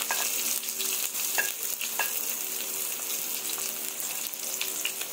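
Onion tossed in with reddened garlic in a hot pan, a steady bright sizzle with occasional stirring clicks throughout, no voices.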